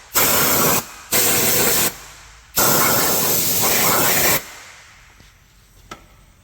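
Compressed air blasts clean around the DSG6 DQ250 gearbox area of a 2014 Audi S3 during an oil change, three loud hissing bursts separated by short pauses, followed by quieter handling sounds.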